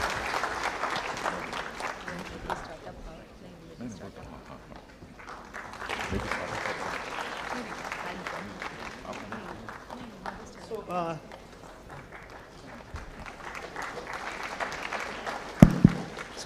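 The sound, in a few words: audience applause for the speakers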